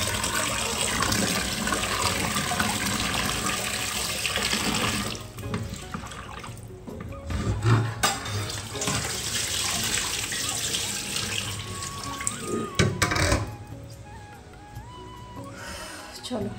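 Water gushes steadily from a tap into a household tank, a loud, continuous rushing stream that shifts slightly in tone while people talk over it.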